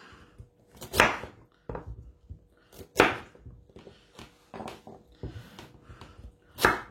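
A knife roughly chopping carrots on a board, with sharp, close, irregular cuts, about six or seven distinct chops spread over a few seconds with quiet gaps between them.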